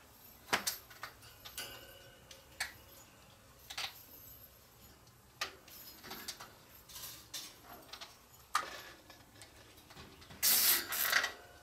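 Zip ties ratchet tight while grow lights are fitted for indoor seedlings, giving scattered short clicking bursts up close and a longer rasping zip near the end, with no talking.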